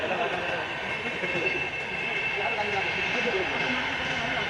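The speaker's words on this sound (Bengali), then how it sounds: "আপনারা যে লাইনটা দিয়ে দেখলেন যে একটা ট্রেন গেল" A train rumbles past steadily on a main line near Siliguri, a continuous broad roar with no clear pauses, heard under talk.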